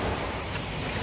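Ocean surf washing steadily, a broad wind-blown rush of waves with a brief swell in the middle and no voices.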